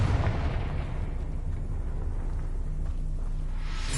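A Confringo spell blast from the video game Hogwarts Legacy, heard as a dense, sustained explosive roar with heavy low rumble that fills the whole stretch at steady loudness, with no talk over it.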